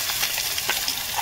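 Coriander chutney frying with garlic in a hot pan, a brief, steady sizzle with light stirring scrapes, close and fairly loud, with no talking.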